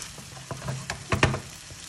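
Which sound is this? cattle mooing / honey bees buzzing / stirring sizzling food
stirring sizzling food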